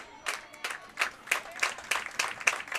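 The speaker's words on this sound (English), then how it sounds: "There's a crowd getting into it here" A baseball crowd at a high school playoff game claps in a steady rhythm, the claps faint and distant with a light murmur of cheering beneath.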